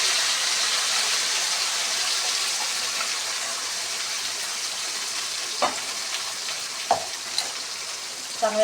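Paneer gravy with cumin seeds and a bay leaf fries in a hot pan with oil, giving a steady close sizzle throughout, broken near the end by a few sharp clinks of a stirring utensil.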